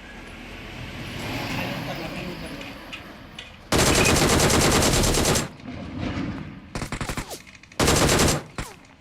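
Video game gunfire erupts in two loud automatic bursts and then a choppy run of shorter volleys, standing out sharply from quieter background game noise.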